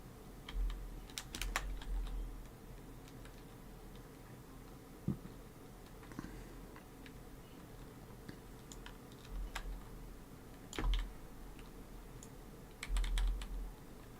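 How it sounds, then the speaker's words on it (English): Keys on a computer keyboard clatter in quick bursts of typing, separated by short pauses and occasional sharper taps, quiet and close with no talk. "I can feel him furiously typing into the chat."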